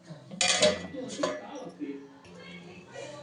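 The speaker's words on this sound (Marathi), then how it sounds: "आता आपण झाकण ठेवू त्याच्यावर" A lid is set onto a cooking pot of steaming dal, giving a few close metallic clanks and clinks in a short burst, then quieter handling, with a faint voice in the background.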